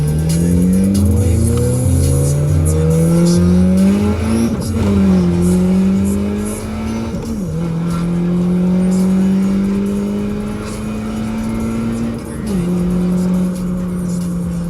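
A Honda Accord with a newly replaced transmission accelerates hard through several gears, its loud engine note climbing steadily, dropping at each shift near 4.5, 7.5 and 12.5 seconds, then rising again, with no talking.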